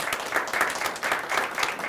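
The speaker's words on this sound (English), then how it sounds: "Let's give her a round of applause if we could." A county meeting audience claps in a round of applause for an honoree, dense steady clapping with rhythmic swells at moderate loudness, no talk over it.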